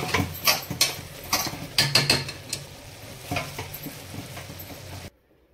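A spoon stirring chicken curry in a pot, scraping and clinking in irregular bursts over a soft sizzle, close and fairly loud, then stopping abruptly.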